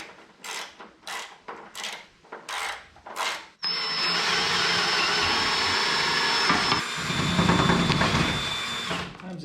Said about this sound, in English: Sometimes it helps to run your drill backwards.